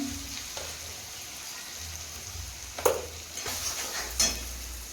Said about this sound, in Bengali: কষানো হচ্ছে গোটা গরম মশলা গোটা রসুন